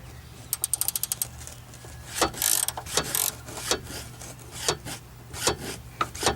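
A ratchet loosens a strut nut on a 2002 Pontiac Grand Am during rear strut replacement: a quick burst of close, crisp clicks, then slower, uneven ratcheting strokes with pauses, loud and alone without talk.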